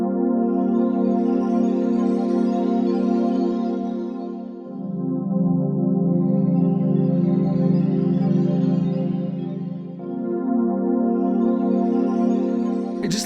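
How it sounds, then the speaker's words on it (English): Melancholy sampled synth pad in a Silent Hill 2 style holds thick sustained chords, shifting to a lower chord midway and back again, swelling softly and dense throughout with no voices. "Just like a very melancholy-esque type pad sound there"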